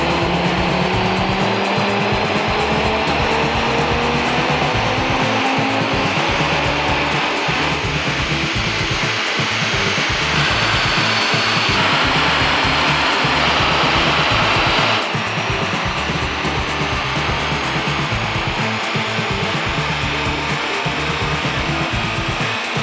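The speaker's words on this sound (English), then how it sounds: "we're going to see what this baby does on the dyno" A 2022 Audi RS3 engine revving hard on a dyno: a loud, sustained roar that climbs steadily in pitch through the gears, broken by brief shifts, continuous and close for over twenty seconds with no talk.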